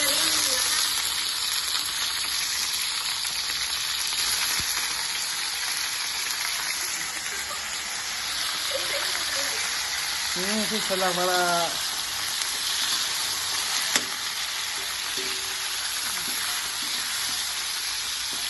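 Chicken fries in a pan for a Filipino dish with a steady, continuous sizzle that runs loud throughout, while brief bits of speech and a few clinks pass over it.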